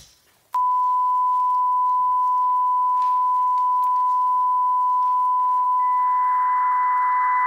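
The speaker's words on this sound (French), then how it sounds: "Vite, émettez la tonalité la plus aiguë avec le maximum de puissance." A radio transmitter emits its highest-pitched tone at maximum power: a single steady, loud electronic beep that starts abruptly and holds without a break to the end, with faint static and hiss behind it.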